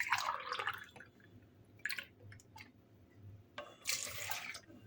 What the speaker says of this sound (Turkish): Hemen şöyle sütümü de ekleyeyim.